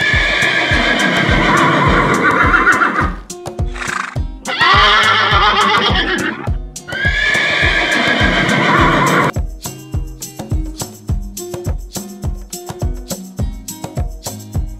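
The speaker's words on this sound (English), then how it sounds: "And the sound of the horse is" A horse whinnies loudly several times in close succession, then its hooves clip-clop in an even rhythm over a steady beat, with no voices.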